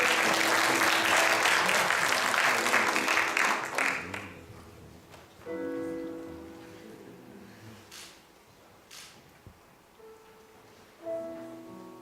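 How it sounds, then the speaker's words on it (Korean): A congregation applauds during a Sunday church service, with loud sustained clapping for about four seconds that then fades into quieter room sound and faint tones. "박수 한번 해주세요."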